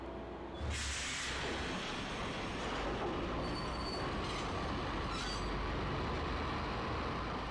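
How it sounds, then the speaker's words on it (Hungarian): Subway train running through a tunnel in the Max Payne video game, a loud, steady rumble of wheels and rail noise starting abruptly and continuing throughout, with occasional high metallic squeals. "Elvezetjük a metrót."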